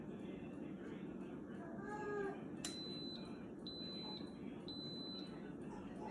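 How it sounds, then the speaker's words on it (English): An Instant Pot pressure cooker gives a series of high, thin electronic beeps at an even pace. A voice talks quietly just before them. "you'll hear 3 beeps soon"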